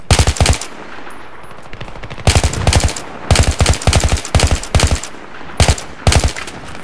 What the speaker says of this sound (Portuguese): Ai, ai, tem gente atirando aqui.